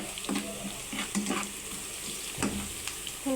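Onions fry in a pan with salt for a sweet pumpkin bhaji, a low steady sizzle with a few soft stirring scrapes over about three seconds, close and quiet, with no speech.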